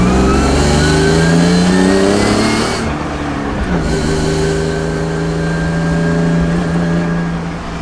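A BMW E36 drift car engine with no exhaust revs loud and close, a raw droning roar that rises, dips briefly mid-clip, then holds a steady high idle-rev with no talking.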